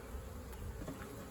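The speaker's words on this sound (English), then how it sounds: "you can kind of push the bees down here a little bit" A caught honeybee swarm in a horizontal hive gives off a faint, continuous buzzing hum with a few brief louder flickers and no voices.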